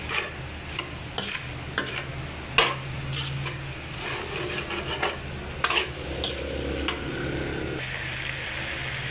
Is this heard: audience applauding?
no